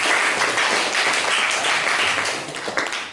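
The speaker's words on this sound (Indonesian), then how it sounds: "Tepuk tangan dulu untuk kita semua." A school class claps together after group presentations, a dense burst of hand clapping from a room of students that holds steady, then thins and fades near the end.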